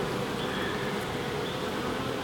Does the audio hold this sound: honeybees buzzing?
yes